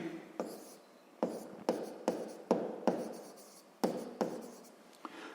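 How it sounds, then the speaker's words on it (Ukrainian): Pen or pencil writing on paper during a sixth-grade maths exercise, a steady scratchy scrawl broken by about eight sharp taps as each new stroke or line begins, close and fairly quiet, with no talking. "Давайте запишемо."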